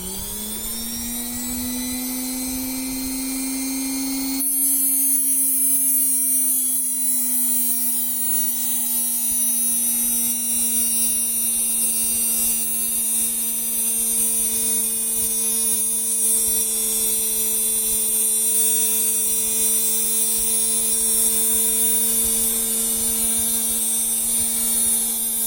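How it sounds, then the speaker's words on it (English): A drum mill knife sharpening machine switches on and runs with a loud, steady motor hum and a high whine, continuing unbroken throughout with no talking. "So let me turn on the drum mill."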